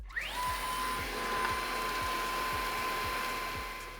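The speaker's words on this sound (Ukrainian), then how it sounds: "звук у нього більш благородний, та й не так давить на вуха, як у звичайних пилососів" A steady, whining motor hum with a high tone from a Samsung Bespoke AI Jet Ultra cordless stick vacuum running continuously nearby, with faint rhythmic ticks underneath.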